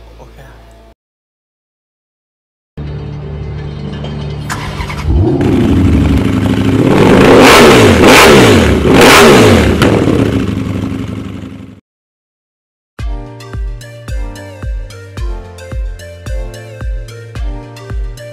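A Yamaha Cygnus Gryphus scooter engine revs up loudly with a rising, sustained roar, then cuts off, followed by a rhythmic series of punchy beats.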